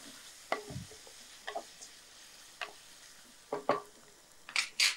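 Kashmiri chili powder being stirred into rasam in a pan, with a handful of sharp spoon scrapes and clinks spaced irregularly over a faint sizzle.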